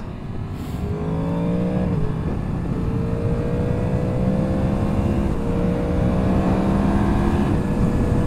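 A 2022 Yamaha MT10 motorcycle engine pulls hard on an open road, its tone climbing steadily through several gears with brief dips at each shift, loud and continuous throughout with no talking.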